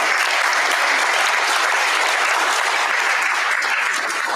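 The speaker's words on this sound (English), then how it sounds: "Please give them all a round of applause." Steady, dense applause from a sizable crowd at a school board meeting, loud and sustained throughout with no pauses.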